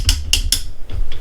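A DeWalt FlexVolt angle grinder guard clicking as it is rotated, with three sharp, close ratcheting clicks in quick succession followed by two softer ones, no talking.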